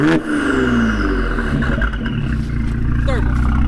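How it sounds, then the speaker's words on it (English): A Ford Fiesta ST revs through a Thermal exhaust, the engine note loud and close, climbing and falling in a continuous throaty drone with a rising whine over it. "Let's hear the rev."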